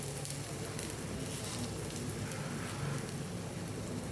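Gram flour handvo batter sizzles in hot oil in a pan, a dense, even crackling hiss heard up close and fairly quiet, steady throughout with no voices.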